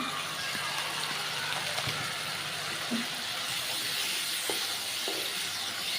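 Cauliflower curry with garam masala fries in a pan with a soft, steady sizzle and hiss while being stirred, broken by occasional light scraping clicks.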